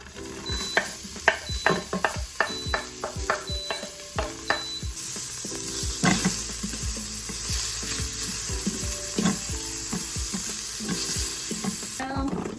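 A dash of olive oil sizzles in a pressure cooker set to sauté on medium, with a constant crackling fry under repeated clinks and scrapes of a utensil, close and clear with no talk.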